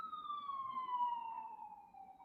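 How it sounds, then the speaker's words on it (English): Police siren wailing outside in one long, gradually falling tone, moderately loud and steady, with no talk over it. "And the siren's out there. The cops are coming for me."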